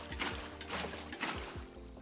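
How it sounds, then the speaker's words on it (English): Water being placed in Minecraft, a short watery splash and trickle repeating a few times over low rumbling machinery, fairly quiet and close. "Now we place our water down."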